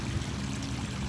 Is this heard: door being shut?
no